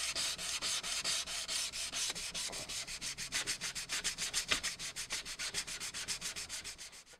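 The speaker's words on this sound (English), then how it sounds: "I'm gonna go with 150 grit on a sanding block and finish up sanding this even with the surrounding surface" Hand sanding with a 150-grit sanding block during a pinball machine restoration: steady, rapid back-and-forth rasping strokes in an even rhythm, close and continuous with no talking.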